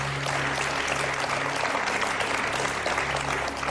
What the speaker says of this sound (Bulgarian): Силно ръкопляскаме всички!